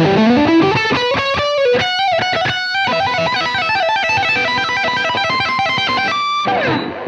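A distorted electric guitar lead played through a UAD Lion '68 brown amp preset, with a fast, continuous run of bright notes and bends that holds loud and saturated throughout, with no voice.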